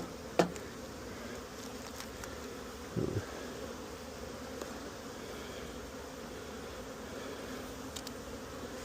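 Honeybees buzz steadily around beehives at an apiary, a low continuous drone with faint passing flybys, plus a couple of brief knocks near the start and middle.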